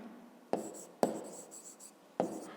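Pen on paper writing out a maths equality, three short scratchy strokes with brief scribbles between them, close and fairly quiet in a calm room.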